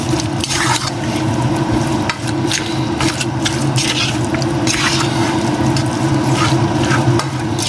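Sliced onions are stirred in a pot of okra soup, with close wet squishing and scraping over a steady simmering sizzle that continues throughout.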